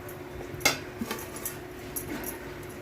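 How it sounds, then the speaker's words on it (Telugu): A spoon clinks against a pan while dry fruit powder is stirred into melted jaggery for burfi, a few light metallic taps and scrapes close by over a soft background hum. "ఇదంతా డ్రై ఫ్రూట్స్ పౌడర్ అంతా వేసుకొని మిక్స్ చేస్తాం."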